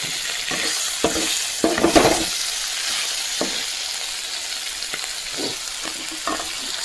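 A chicken roast is stirred with a spatula in a frying pan: a steady oily sizzle, broken by irregular scraping clatters of the spatula against the pan, strongest early on.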